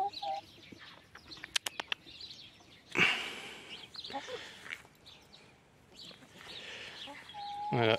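Chickens, including a small white bantam hen, cluck softly nearby in short, scattered bursts in a backyard poultry yard, with a brief flutter of wings and faint background rustling.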